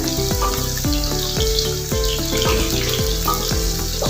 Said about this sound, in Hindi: इसको साथ साथ हिलाते रहें ताकि ये सारी साइड से अच्छे से फ्राई हो।